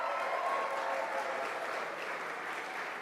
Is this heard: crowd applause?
yes